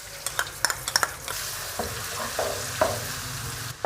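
Garlic ginger paste drops into hot cooking oil and sizzles steadily, with a few sharp spatters and utensil clicks early on, a continuous near frying hiss throughout and no talking.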